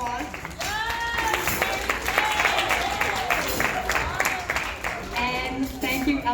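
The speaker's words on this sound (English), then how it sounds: "We'll give her a round of applause." Steady applause from a crowd at an awards banquet, with scattered cheers and voices mixed in, sustained throughout at a fairly loud level.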